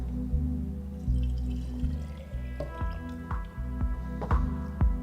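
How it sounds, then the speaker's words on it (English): Water pours and drips into the tank of a Jimmy'z shisha maker, with a steady low hum underneath and several sharper splashing drops toward the end. "Now we need to fill in water into the water tank."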